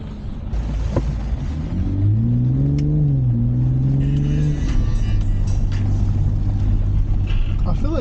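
A 2023 BMW M440i xDrive engine drones inside the cabin while driving, rising and falling as the revs climb and then settling into a steady low hum, with people talking over it.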